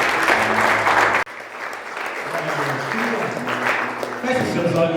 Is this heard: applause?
yes